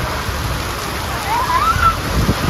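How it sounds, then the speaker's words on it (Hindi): Heavy rain pours at a railway station platform as a steady, loud wash of noise, with a brief tonal whine rising over it. "जबरदस्त वाली बरसात आ रही भाई।"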